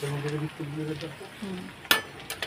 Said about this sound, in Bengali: এইদিকে ভাজাটাও এদিকে হচ্ছে